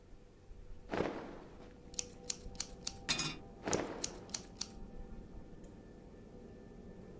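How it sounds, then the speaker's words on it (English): Scissors snip through fabric while a dress is altered in The Cat Lady, a horror video game: a row of about eight short, sharp metallic clicks, evenly spaced and fairly loud, between a couple of softer rustling swishes. "I'll need some scissors for that"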